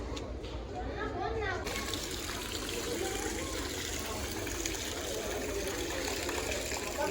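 Water from a borewell motor pump gushes out in a steady, continuous rush that is loud and close throughout.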